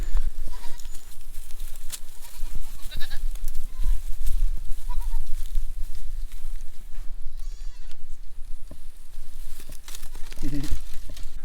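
A reddish brown goat on a farm bleats a few times among other livestock. The calls come over steady outdoor rumble and some crinkling, and one loud bleat stands out near the end.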